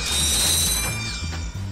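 Rapid clattering of many bolts being collected in Ratchet & Clank, a loud, dense stream of metallic ratcheting clicks and chimes that thins slightly toward the end, with no voices.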